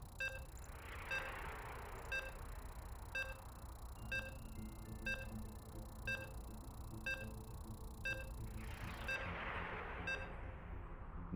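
Short electronic beeps repeat at a steady rate of about one per second while a StarCraft II match loads, clear and evenly spaced over a soft hiss and low background hum.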